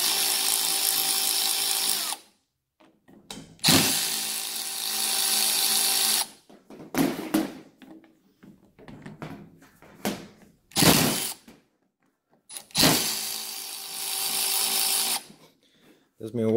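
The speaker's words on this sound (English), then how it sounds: "Those Milwaukee ratchets have a lot of torque." A Milwaukee power ratchet takes apart an OEM hydraulic pump from an LMTV truck, with several loud whirring bursts of a few seconds each, separated by short gaps and softer mechanical clicks, close up.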